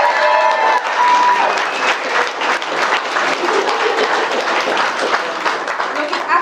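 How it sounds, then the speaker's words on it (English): Wedding guests applaud the mothers, a sustained, lively round of clapping from a gathered crowd, close and full throughout with a few voices mixed in. "Round of applause for the mothers,"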